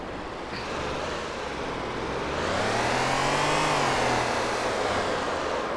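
A car engine in the City Driver video game accelerates steadily, its pitch climbing through a long rev and then easing off, over a steady hum of road noise with no voices.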